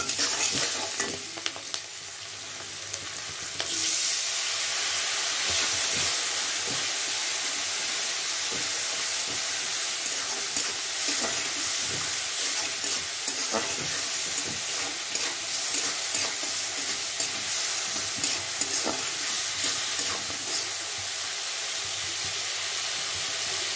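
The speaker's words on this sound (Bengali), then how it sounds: "ভালো করে কষে নেবো দুটো জিনিস।" Crab and fish sautéing with turmeric powder in a pan, a loud, dense, continuous sizzle and hiss with frequent scraping stirs throughout, no talking.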